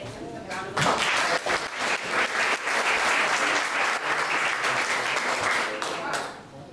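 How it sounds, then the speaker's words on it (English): Sustained audience applause greets Aldo of Bayside Dog Services as he is introduced at a 1 Million Cups startup pitch event. Dense, steady clapping from a crowd fills the room for about six seconds, then fades slightly at the end. "please give him a round of applause"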